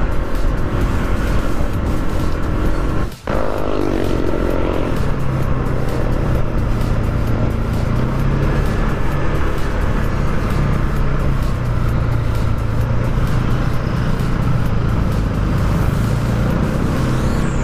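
A Honda PCX scooter engine runs steadily while riding on the road, a loud continuous drone with wind rush and a brief dip partway through, with no talking.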